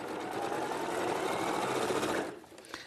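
Sewing machine running steadily as it stitches pairs of quilt patches together, a fast continuous whirring hum up close that stops abruptly near the end.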